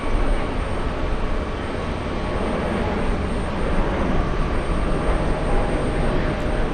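Virgin Atlantic airliner at JFK airport, a steady broadband jet roar that holds loud and even throughout, with no talk over it.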